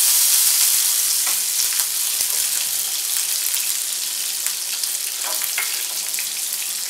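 A spoonful of butter sizzles and crackles steadily in a hot frying pan at the start of a creamy tomato soup, a continuous close hiss with no voices.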